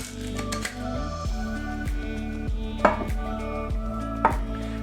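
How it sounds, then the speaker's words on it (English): Ice rattles in a shaker during a brief whip shake of a Mai Tai with pineapple juice, a quick rhythmic series of sharp clattering hits in steady succession. "I wanted to whip shake for a little bit longer"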